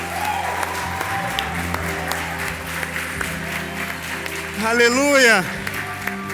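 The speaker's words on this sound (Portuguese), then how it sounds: "Essas palmas são para vocês" Church congregation applauding, steady clapping under a voice speaking, with a shout rising out of the crowd near the end.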